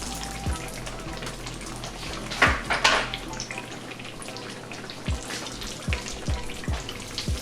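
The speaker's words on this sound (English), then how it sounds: "all we're gonna do is fry our eggplant up until it turns a nice golden brown like this" Eggplant frying in hot oil in a pan, a soft steady sizzle with a brief louder burst of spattering and a few low knocks, close and unaccompanied by talk.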